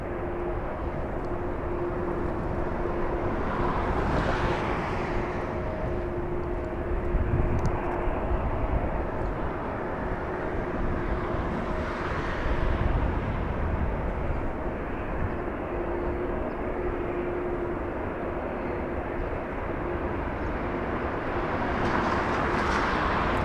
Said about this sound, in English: There's the touchdown.